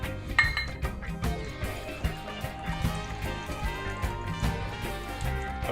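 Pinot Bianco wine is poured into a crab cake mixture and stirred, giving light metallic clinks of utensil against bowl with soft liquid sloshing, moderately close and steady.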